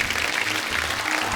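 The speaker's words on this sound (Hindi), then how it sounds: "हमारे सिंह साहिबान के लिए जोरदार तालियां" A TV studio audience on The Kapil Sharma Show breaks into dense, even applause, with no talk over it.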